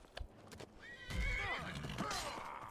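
A horse in Skyrim whinnies loudly and close, a long rising-and-falling neigh following a few soft hoof clip-clops and shuffles at the start.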